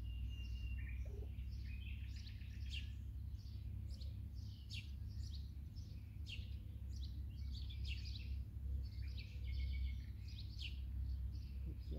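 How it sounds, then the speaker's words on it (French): Birdsong drifts through a calm outdoor scene, many light chirps and short trills repeating steadily over a low, constant rumble of background noise, at a moderate distance. "Et profitez du chant des oiseaux"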